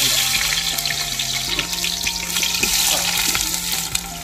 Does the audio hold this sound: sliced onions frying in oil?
yes